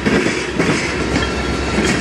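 A CSX manifest freight train led by locomotive 4551 rolls past a crossing at the Fostoria Iron Triangle in Ohio, a loud, steady rumble with clattering wheels throughout.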